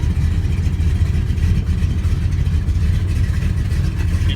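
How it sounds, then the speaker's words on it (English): A restored 1955 Chevy's engine runs at a steady, rumbling idle close by, a continuous low throb with no talk over it. "I need you to hold the brake for me so I can video the motor real quick."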